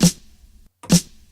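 Two punchy layered snare drum samples on an MPC, about a second apart, each with a crisp crack and a short reverberant tail, no talking.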